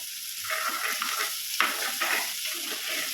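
Pieces of elephant foot yam sauté in a pan with a moderate sizzle, broken by a few stirring scrapes and soft clinks, close up with no voices.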